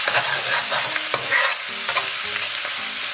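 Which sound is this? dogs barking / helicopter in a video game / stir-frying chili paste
stir-frying chili paste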